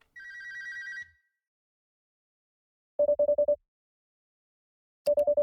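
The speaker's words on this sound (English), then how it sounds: "Phone begins to ring," A telephone rings in a video game escape room, a tonal electronic trill followed by two short bursts of rapid ringing pulses, separated by silence, clean and close.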